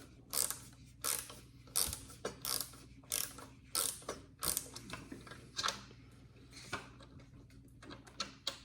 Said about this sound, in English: We should put the ratchet action.